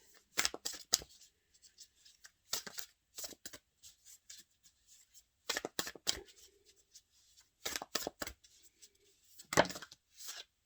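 A tarot deck is shuffled and cut in repeated bursts of crisp riffling and flicking, close and clear, with short quiet gaps between them.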